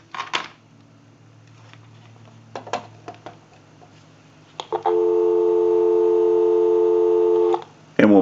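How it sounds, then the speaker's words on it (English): Steady dial tone on a Stromberg Carlson rotary dial wall telephone, loud and sustained for about three seconds after a few handset clicks and knocks, then cutting off. "Go ahead and give you some dial tone."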